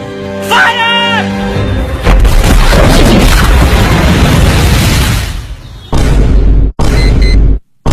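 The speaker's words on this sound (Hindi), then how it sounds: "उस कोऑर्डिनेट्स पे बम गिरा दीजिए" A loud, cartoonish bomb explosion effect bursts in after a brief voice, rumbling for a few seconds before a few more sharp booming hits close out the comedy sketch.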